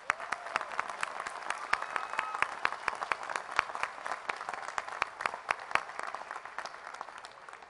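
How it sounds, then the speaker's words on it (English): Applause at a university honors college commencement ceremony, a large crowd's hands clapping in an even, sustained wash with sharp individual claps standing out, heard from a distance in a big hall. "One more round of applause for them."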